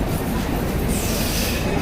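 A train pulling into a station during a family vacation trip gives a steady, loud rumble of wheels on rails with a hiss of brakes, filling the clip without a break.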